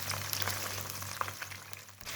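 Fish nuggets deep frying in hot oil give off a steady close sizzle with scattered small pops and crackles, and a low hum runs underneath the whole time.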